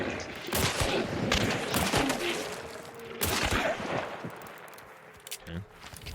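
Video game gunfire crackles in rapid bursts and fusillades, several sharp volleys over a few seconds, mixed with game noise and possible footsteps.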